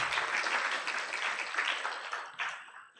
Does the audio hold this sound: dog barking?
no